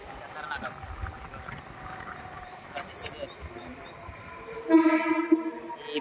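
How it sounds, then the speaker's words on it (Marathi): A train bound for Mumbai rushes past a busy station platform, a steady rumble with clattering, then a short blaring horn near the end, while someone talks over it. "ही बघा मुंबईत जाणारी अजून एक ट्रेन गेली"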